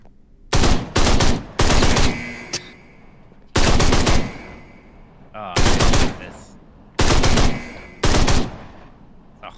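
Harsh gunfire sound effect from the video game Blight Club, heard as loud rapid-fire bursts in regular groups of two or three separated by short pauses, close and dominant.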